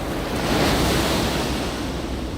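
Ocean waves break on Shonan Hiratsuka beach in a loud, continuous surf roar with wind buffeting the microphone and no voices over it.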